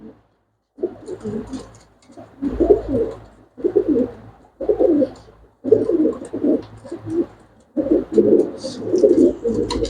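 Pigeons for sale coo in repeated bursts close by, a steady run of throaty, rolling calls separated by short pauses and growing louder toward the end.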